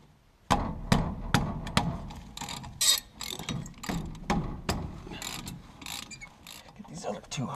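A ratchet clicks in quick repeated bursts while 9/16 and 3/8 inch bolts are loosened from a brake caliper, close and fairly loud, with metallic clanks between strokes and no voices.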